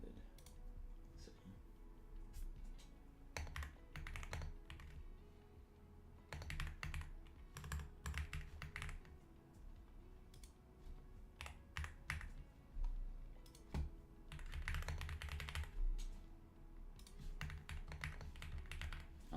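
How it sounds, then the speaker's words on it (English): Rapid typing on a computer keyboard during a live trading session, irregular bursts of close, sharp key clicks and clacks continuing throughout over a low steady background hum. "you're gonna hear my clicking and clacking on my keyboard"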